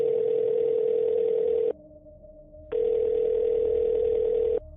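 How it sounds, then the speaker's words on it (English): A telephone line tone while calling 911: a steady tone in long, even bursts with a short gap between them, clear and close, with no voices. "I fumbled for my phone, my hands trembling as I dialed 911."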